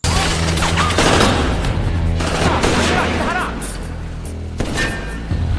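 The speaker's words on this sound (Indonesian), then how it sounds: "Dia segera berlari ke arah Eve sambil menghindari tembakan anak buah Carlito" Bursts of gunfire and thuds from a mafia shootout film scene crackle through a dense, loud action soundtrack, with shots overlapping music and effects.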